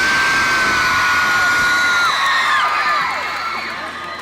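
A big arena audience cheers and shrieks at a Seattle concert, a dense, loud wall of screams and whoops that stays steady and eases off slightly near the end.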